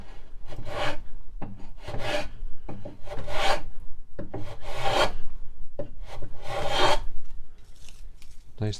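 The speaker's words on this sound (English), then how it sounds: "These joints are just a little bit misaligned here, so it's a little proud at the back. So I'll trim those down." A hand tool shaves down a proud, misaligned wooden joint at the back of a curved tool chest drawer, taking thin full-width shavings in a series of close, rasping strokes with short pauses between them.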